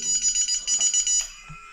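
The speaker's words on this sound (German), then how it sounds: "Jetzt kommt Alarm." A loud electronic alarm beeps in a rapid pulsing pattern, about eight short tones, then stops with a click.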